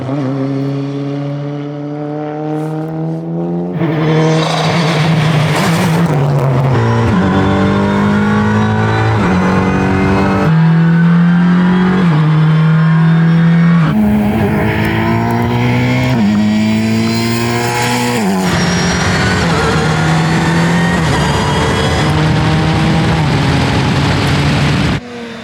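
A Volkswagen Mk3 A59 race car, a one-off museum car, accelerates hard with loud, continuous engine roar and rising and falling revs through several gear changes, close and without speech.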